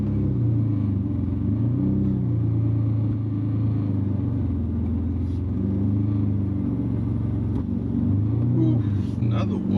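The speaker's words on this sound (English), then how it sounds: "We are driving the Beamer" A BMW E46 drives through a quiet neighborhood, its engine a steady low rumble heard from inside the cabin, with slight pitch shifts as it moves and people talking over it.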